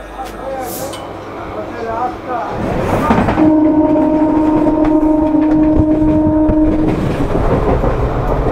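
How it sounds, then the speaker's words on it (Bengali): A Mecheda local train on the South Eastern line pulls into Phuleswar station, rumbling louder with clattering wheels and a sustained horn blast midway, while people talk nearby. "এই যে মেছেদা লোকাল চলে এলো 7:25, 10 মিনিট লেট"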